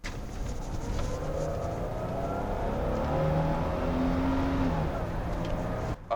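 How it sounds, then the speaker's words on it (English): A supercharged L67 engine in a Holden Commodore Calais revs under load in power mode, a steady engine drone with rising whine tones sweeping up and down, heard from inside the car. "Oh, the supercharger whine in this thing is awesome. It sounds so good."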